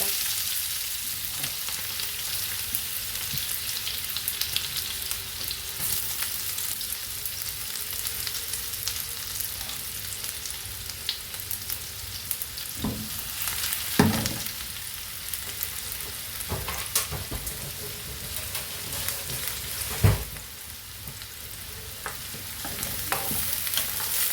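Chopped onion dropped into hot oil in a pan for an Andhra-style egg coconut milk curry, a continuous low sizzle with scattered scrapes and a couple of sharp utensil knocks, no talking.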